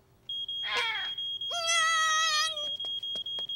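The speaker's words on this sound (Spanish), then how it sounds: "Primero escucharemos la alarma otra vez para reconocerla." A cartoon fire alarm blares in a steady high electronic beep, broken by regular short gaps, while a cartoon character's exaggerated voice briefly sounds over it.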